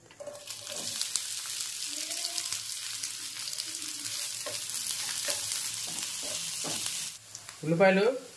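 Cumin, mustard seeds, green chillies and onions frying in oil in a pan, a close, steady sizzle with occasional stirring clinks, fading out near the end as a short voice is heard.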